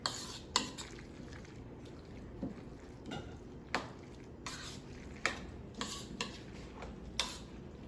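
Salsa stirred in a bowl with a spoon, giving a series of sharp clinks and taps against the bowl at an irregular, unhurried pace over a low, quiet background.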